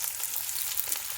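Paneer pieces frying in a pan until golden brown, a close, steady hiss and crackle of hot oil with no break and no talk.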